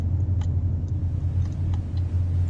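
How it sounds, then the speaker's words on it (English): A roaring wave in a video game, a steady low rumble filling the background throughout with a few faint ticks above it. "That roaring in the background, though, is the sound of the wave"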